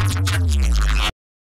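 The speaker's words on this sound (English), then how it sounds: "start with some kind of a neuro-ish kind of bass sample" Neuro-style bass sample, heavy and growling with a dense, rough texture, looped in a sampler; a single loud hit holds steady for about a second before cutting off abruptly.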